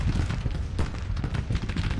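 Artillery bombardment in the Grand Tactician Civil War video game, a dense barrage of overlapping booms and cannon blasts rumbling continuously at moderate loudness, with no talk over it.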